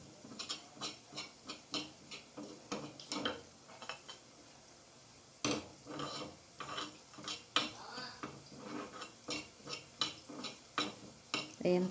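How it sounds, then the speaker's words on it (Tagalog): Chicken is stirred in a pan with a metal utensil, giving repeated scraping and clinking strokes in a quick, irregular rhythm, close and fairly faint, with a brief pause partway. "Paghalo-haloin para hindi masunog."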